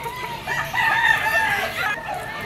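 A green-legged native rooster, about ten months old, crows once at a Malabon pet market, a loud close call with a wavering tone, over faint background chatter.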